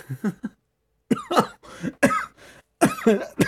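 Several sharp coughs in bursts, close and fairly loud, with a short pause between groups, during a Free Fire game session.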